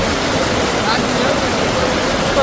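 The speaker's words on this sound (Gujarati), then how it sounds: "તો ઘૂઘવતા દરિયા જેવો અવાજ અને ધસમસતા પાણી." Floodwater from a swollen river rushes across a road near Mathal village in Gujarat after heavy rain, a loud, constant, sea-like roar close by, with a voice faintly present over it.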